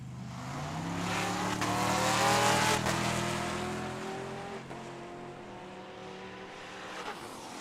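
Hot rods at a Tucson Dragway drag race, a loud engine roaring close and then fading as the car runs down the strip, with a long revving sweep that falls away into lower rumbling.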